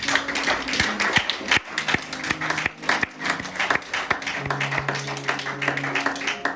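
A church congregation claps together during a Sunday service in acclamation, a dense patter of hand claps carrying on steadily with some tonal sound underneath, moderately loud and close.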